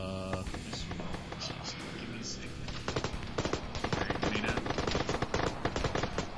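Rapid bursts of automatic gunfire in Arma 3, near and loud, growing denser in the second half, with voices talking over the shooting.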